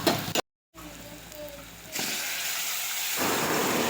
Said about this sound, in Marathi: कांदा मसाला टाकायचा.